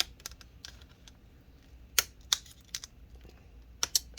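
Adhesive layer being peeled off an HP Omen 15 laptop screen panel during disassembly: faint, scattered sharp crackles and ticks over a quiet background, a few louder snaps near the end.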